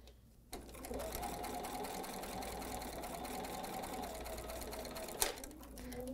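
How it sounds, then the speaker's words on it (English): A BERNINA sewing machine runs a steady stitching seam on quilting fabric for a table topper, a continuous close whirring hum that stops briefly near the end before a short final step. "And I know my BERNINA is going to take one more step."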